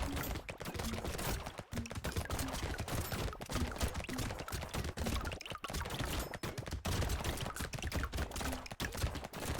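Turrets fire in the video game Brotato, a dense, continuous rattle of rapid small shots and impacts at an even level across the whole stretch, with no talking.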